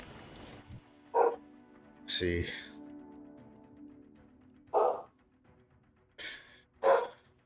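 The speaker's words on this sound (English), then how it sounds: "These damn dogs." Dogs in a video game bark in short separate bursts, about five yips and barks spread across the moment, with a brief murmured voice early on.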